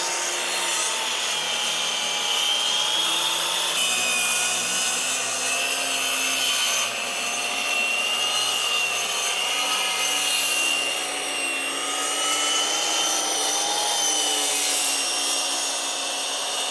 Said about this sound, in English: You hear the saw? Doesn't like it.